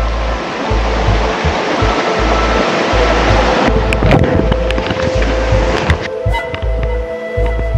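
Mountain river at Marilaque rushing over rocks, a loud continuous broadband wash that stays close and steady throughout, with a low rumble underneath and a few brief clicks and knocks near the end.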